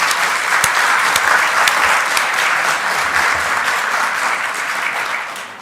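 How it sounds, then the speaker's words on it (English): A church congregation at a Sunday service claps for musicians who played that morning, a steady, fairly loud wave of applause with a few crisp individual claps that tapers off at the end. "So give them a round of applause."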